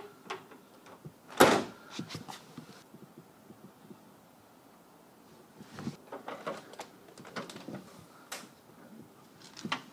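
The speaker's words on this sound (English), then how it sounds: "Close the door." A door shuts with a sharp thud near the start, followed by scattered clunks and knocks in an otherwise quiet room in a car-painting workspace.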